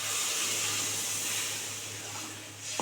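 A little water poured into a simmering cauliflower and potato curry sets off a soft, steady hiss and sizzle in the pan, close and fairly quiet, ending with a small knock.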